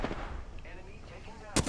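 Gunfire from the video game Apex Legends, a short burst of loud shots at the end after a low rumbling stretch.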